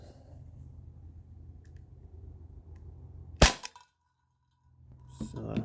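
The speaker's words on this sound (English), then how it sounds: "I'll turn this clean edge and fire again right now" A T4E HDP50 air pistol fires an aluminum ball at a can, a single sharp, loud crack that stands out against low background rumble, followed by a brief silence and then faint handling noise.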